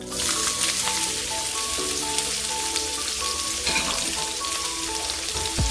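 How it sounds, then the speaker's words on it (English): Vegetables sizzle and crackle steadily in hot oil in a wok, a close, continuous frying hiss with a few clanks from the pan. "Our oil is nice and hot. We're gonna add our vegetables."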